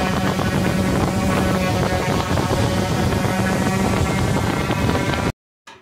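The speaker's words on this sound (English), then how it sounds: "I'm going to take 120 grit with my orbital sander, and I'm going to sand them all down" Orbital sander with 120 grit paper running continuously over wood, a loud, steady whirring hum up close that stops suddenly near the end.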